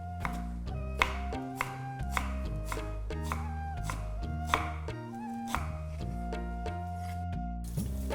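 Knife chopping onion on a board for Kolhapuri chicken curry, about a dozen crisp close taps in a steady rhythm, with a sustained musical tone underneath.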